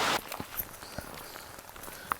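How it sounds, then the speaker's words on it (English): Light rain patters on a forest trail beside a large creek on a cold day: soft, scattered drops tapping close by, with a brief louder rush at the start. "Starting to rain again."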